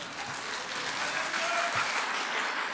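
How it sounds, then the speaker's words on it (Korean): Church congregation applauding after a hymn at a Sunday worship service, a steady, full wash of clapping from many hands that holds evenly for the whole stretch, with no one speaking over it. "제가 박수 받자고 노래한 거 아닙니다."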